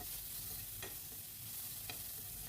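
Tomatoes and dry coconut fry quietly in a pan, a soft, low sizzle with two brief scraping strokes of a spoon, faint and without voices.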